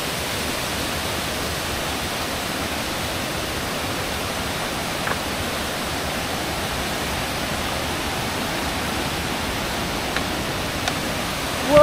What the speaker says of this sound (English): We're gonna go straight to the source of the waterfall.